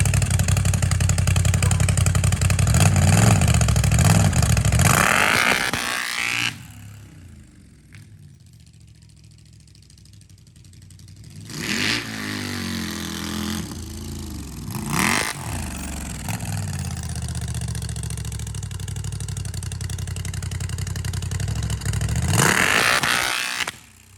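A CFMOTO ZForce 950 side-by-side fitted with dual exhaust and a tuner revs hard and close, dropping briefly to a lower idle before climbing again into a sustained loud roar.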